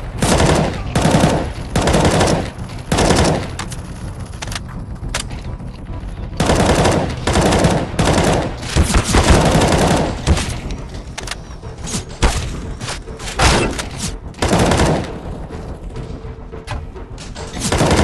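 Rapid bursts of automatic gunfire from CS:GO on a survival hardcore workshop map, loud and dense, with repeated volleys and booming impacts filling most of the stretch and only brief lulls between.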